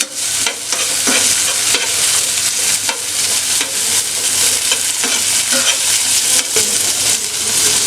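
Dry fruits sizzle and are stirred in a hot pan, a loud, continuous frying hiss broken by repeated scraping stirs and small clinks, with no talk.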